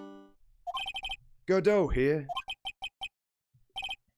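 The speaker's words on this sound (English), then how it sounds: "What kind of ringtone is that?" A phone ringtone from the Ace Attorney courtroom game rings in repeated short electronic pulses, broken by a burst of game speech mid-way, then resumes in another brief set of rings.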